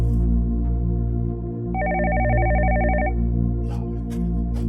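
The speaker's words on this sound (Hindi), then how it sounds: "एक और फोन आ गया।" A telephone rings once in an indoor scene, a bright trilling electronic burst of about a second and a half over a steady low musical drone, with no talk.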